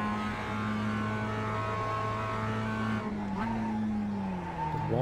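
Mazda MX-5 racing on the Nordschleife in iRacing, a steady engine drone with a faint tire scrub as grip fades, pitch dipping late as the car slows toward the left-hand corner.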